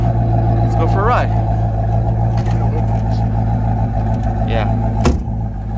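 A supercharged 1994 Ford Mustang GT, only 18k miles, drives along with a steady, loud engine drone throughout, while a voice speaks briefly over it.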